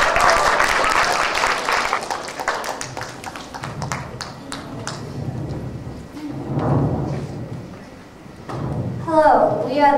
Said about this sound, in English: Let's give a round of applause for Joanne, Sylvia, Matea and Kelly.